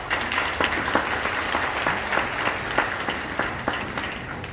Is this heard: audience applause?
yes